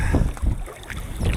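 Waves rock a small boat at sea, with low sloshing water and wind rumbling against the microphone in a brief, steady wash.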